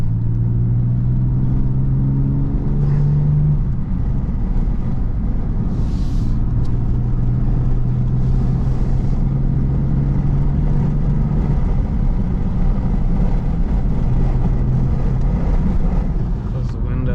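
A car engine rumbles loudly while warming up, holding a steady low drone with rising revs, and voices talk over it inside the car.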